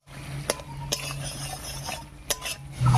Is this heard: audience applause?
no